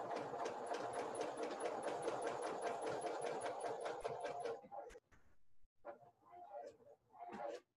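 A sewing machine stitching a fabric face mask runs steadily with a fast, even mechanical whir for several seconds, then stops, leaving brief scattered handling sounds and faint noises.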